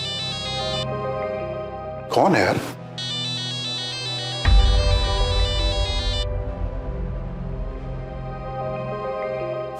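An electronic phone ringtone plays a repeating melodic pattern, briefly interrupted by a burst of noise, while a voice speaks over it.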